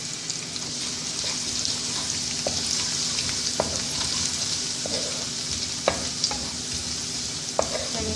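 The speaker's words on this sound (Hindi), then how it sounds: "हम इसको फ्राई कर रहे हैं" Garlic and cumin seeds fry in a hot pan with oil, giving a steady, soft sizzle punctuated by occasional clicks and taps of a spoon stirring, with no talking.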